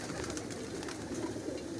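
A pigeon coos softly and steadily over a low, continuous background hum, the calls faint and close, with no talking.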